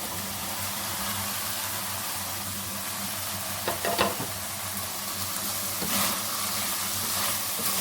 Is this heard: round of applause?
no